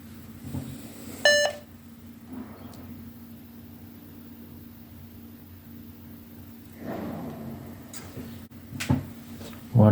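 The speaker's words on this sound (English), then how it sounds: "One beep." HP EliteDesk 800 desktop computer that keeps turning on and off gives one short electronic beep at power-on, followed by a low fan hum, handling noises and clicks.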